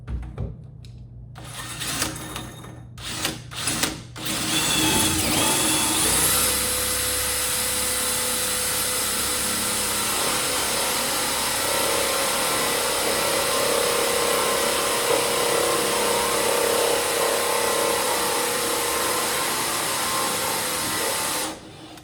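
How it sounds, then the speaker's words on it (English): A power drill with a hole saw whirs steadily and loudly through a door for most of the stretch after a few short bursts and knocks, cutting continuously with a rough grinding edge. "Take the hole saw with the big bit, and you want to do this side first"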